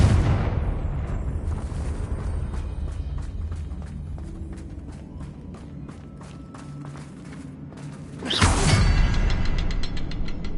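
A Confringo spell explodes in a video game where dragons attack, bursting out as a sudden loud whooshing blast near the end after a rumbling, creaking, mechanical game soundscape.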